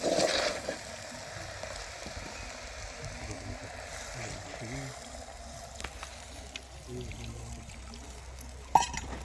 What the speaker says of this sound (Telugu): అప్పుడు వాటర్ పోసుకోవాలి